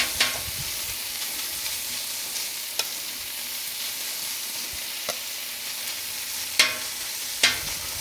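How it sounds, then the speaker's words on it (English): Shredded birria beef sears in a hot pan with a steady, close sizzle and crackle, broken by a few sharp scrapes and stirs as the meat is moved around. "I personally like to sear the meat off a little bit."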